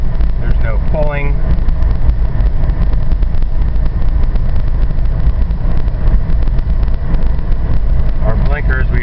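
A 1966 Plymouth Barracuda with a 273 V8 running on the road, a steady loud engine and road drone with wind buffeting the microphone throughout, and a voice speaking briefly near the start and end.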